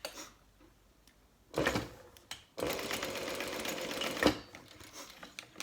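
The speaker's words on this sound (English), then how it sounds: "I'm going to stitch across here, just so it doesn't move," Sewing machine stitching across D-ring tabs on a zipper pouch being made into a handbag, two close bursts of rapid needle clatter, the second longer, with quiet handling between.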